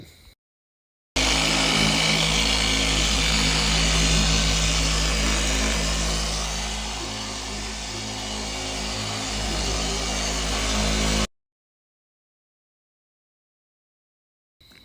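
A power buffer polishing fresh black cherry pearl paint on a Harley motorcycle, a steady, loud mechanical whir that starts abruptly, holds for about ten seconds with a slight dip in pitch under load, then cuts off.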